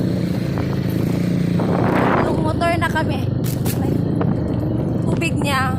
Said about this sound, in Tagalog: Tatlong motor na kami.